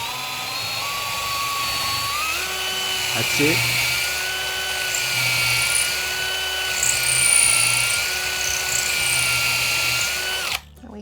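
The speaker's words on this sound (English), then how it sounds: "So we put it into drill mode, and you want to try and drill nice and straight." A power drill whirs steadily at close range, its pitch shifting as it bites into material, then cuts off abruptly; a voice speaks briefly.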